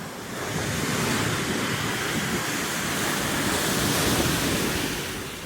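Ocean surf rolls in steadily at Magra Beach in Real, Quezon, a broad continuous wash of breaking waves with wind noise on the microphone, loud and unbroken throughout.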